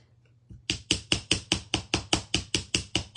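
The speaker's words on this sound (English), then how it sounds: "I am going to hammer this to harden it" A small hammer strikes a wire clasp loop for an elastic bead bracelet to harden it, about a dozen sharp, evenly spaced metallic taps in quick succession, close and alone.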